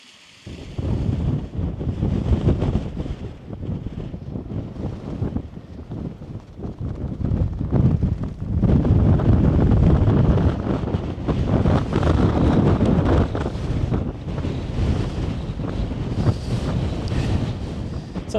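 Strong gusts buffet the microphone on an exposed Scottish mountain ridge near Glas Tulaichean, a loud continuous roar that rises and falls and swells in the second half, with no voices.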